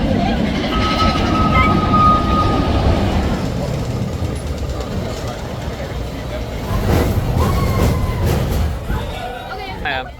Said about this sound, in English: Vekoma mine train is not that rough. No, it's nice and smooth.